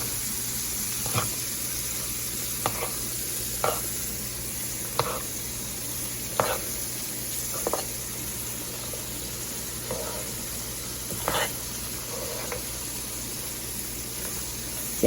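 Macaroni being stirred into a cheese sauce in a pan on the stove, a low steady hiss broken by regular soft, wet scraping strokes of a spoon, about one each second or so.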